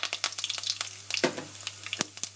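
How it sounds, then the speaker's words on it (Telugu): Tempering spices (popu) crackle and pop in hot oil for a small-onion sambar, a run of sharp, irregular spits and snaps over a low steady hiss, close and fairly loud, no voices. "ఆయిల్ పెట్టుకొని అది కాగిన తర్వాత మీరు పోపు పెట్టుకోవాలా."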